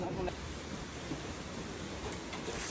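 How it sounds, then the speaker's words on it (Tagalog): Rain falls steadily during a drive to Daet, forming a dense, even hiss of broadband noise that runs without a break, with faint voices in the background. "Nag-ulan po dito, parang sinusundan po kami ng ulan sa Malalag hanggang dito po."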